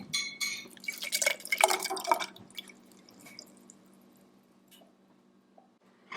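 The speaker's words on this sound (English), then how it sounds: "now we're just going to pour the kefir grains in the jar" Water kefir grains poured through a funnel into a jar give a burst of wet plops, drips and glassy clinks for about two seconds, followed by a few scattered faint drips and taps in near silence.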